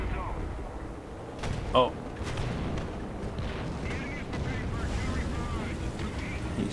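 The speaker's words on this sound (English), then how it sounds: "he's coming with the arty fire again" Artillery shells land in a War Thunder battle around a Flakpanzer 38(t) Gepard anti-aircraft vehicle. There is one sharp boom near the start, then a duller rumbling blast, with a brief exclamation from a player.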